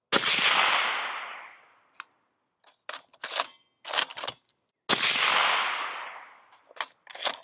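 Two loud, sharp .308 rifle shots fired through a K-Brake muzzle brake end cap, each with a long decaying roar, separated by clicks and rattles of handling and bolt work.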